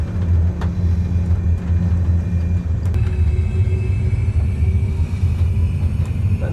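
An A320 flight simulator rolls down the runway under manual braking, producing a continuous loud low rumble with a steady engine drone and faint rattles throughout.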